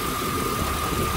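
A 2004 Chevy Trailblazer's 5.3L V8 idles steadily with the heater on, a continuous low engine hum with a faint whine above it and no voices.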